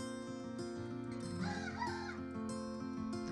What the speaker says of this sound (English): We have a rooster. First crows of the year.